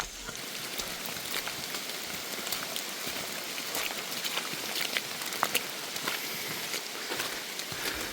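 Light rain patters steadily on leaves and surfaces deep in a misty Lao forest, an even hiss with scattered close drips and no voices.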